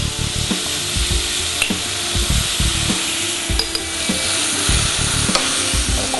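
Artichokes and garlic sauté loudly in a hot pan, giving a dense, constant sizzle with scattered clicks and spatula scrapes close by.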